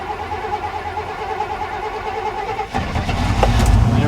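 An old dump truck with a weak battery cranks on a cold day, a low rhythmic churning that catches at about the three-quarter mark and swells into a louder, rough rumbling idle close by.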